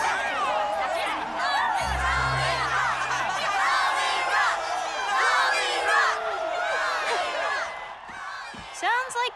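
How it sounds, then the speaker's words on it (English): An animated crowd cheers and calls out for a concert, many excited voices whooping and shouting at once in a lively, sustained clamour with brief dips. "This crowd wants a concert."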